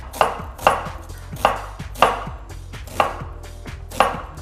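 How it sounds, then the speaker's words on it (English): A kitchen knife chops rustically peeled onions on a cutting board in six evenly spaced, crisp strokes, close and clear with no voices. "Now we're gonna cut some onions"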